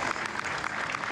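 Steady applause from party members watching exit poll results on election night, a continuous dense clatter of clapping hands filling the whole moment.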